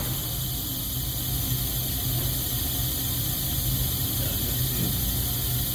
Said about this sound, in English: First firing of generator number 1 at American Control and Engineering Service